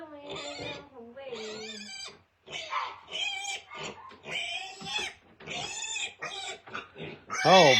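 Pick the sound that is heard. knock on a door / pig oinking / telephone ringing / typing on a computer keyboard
pig oinking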